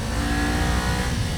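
A Kawasaki Ninja 500 fitted with a Yoshimura exhaust revs loud and close, a sustained deep engine roar that holds steady throughout.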